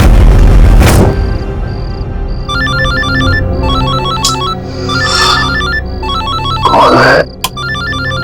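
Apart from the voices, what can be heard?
phone ringing at night from an unknown number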